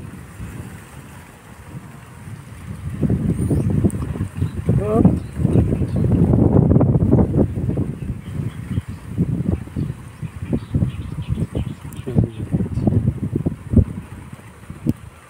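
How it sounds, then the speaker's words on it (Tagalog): Strong wind buffets the microphone in a grassy outdoor field, rumbling and gusting in loud waves while people talk over it. "Lakas ng hangin."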